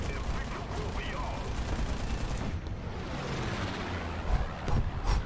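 Aircraft cannon fire in an air combat video game, with dense bursts of gunfire over a constant engine roar and a few sharper louder shots near the end; speech-like sound mixes in.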